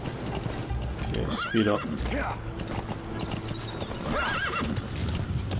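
Hooves pound at a gallop in Metal Gear Solid 5: The Phantom Pain, a close, continuous clip-clop with two loud whinnies from the horse, while someone talks briefly over the ride.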